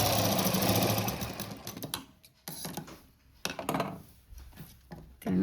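A sewing machine stitches a cut-work blouse in a home tailoring setting, running in a loud steady mechanical burst for about two seconds, then stopping and starting again in short, quieter runs of needle clatter with gaps of near silence.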